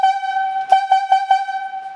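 A highlead logging whistle gives the 2 and 4 signal, a bright sustained tone pulsed by quick short breaks, loud and close with no talking.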